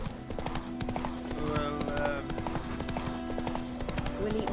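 Horse hooves clip-clop steadily along a road in a rhythmic walking beat, heard close, with a person speaking over the hoofbeats.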